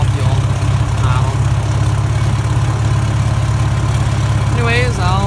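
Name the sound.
1944 McCormick Deering O4 all-fuel orchard tractor engine idling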